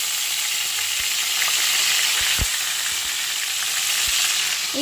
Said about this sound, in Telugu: ఈ ఆయిల్లో ఫ్రై చేసుకుంటారు